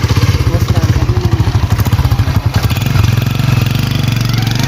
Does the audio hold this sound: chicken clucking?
no